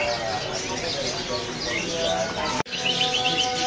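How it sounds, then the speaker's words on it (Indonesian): A pair of lovebirds at a bird market kiosk chirp repeatedly with bright, close tweets amid busy background noise and a person talking. "Di kios ini ada burung lovebird pasangan nih."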